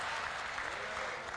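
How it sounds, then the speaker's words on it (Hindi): Audience applause fills a comedy kavi sammelan (Hindi poetry gathering), a steady, dense wash of clapping from many hands that stays loud and unbroken throughout. "अब ताली तो बजा दी"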